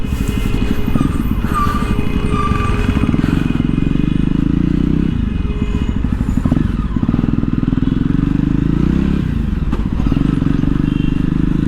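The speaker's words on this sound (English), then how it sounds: "I must say the exhaust notes, it's brilliant" A Jawa Perak motorcycle's exhaust rumbles loud and close in a steady, throaty drone, with slight swells and dips in engine pitch throughout and faint clatter on top.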